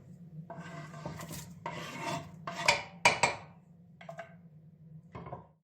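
Chopped onions slide and clatter into an oiled metal pressure cooker in a few scraping bursts, close by, over a steady low hum.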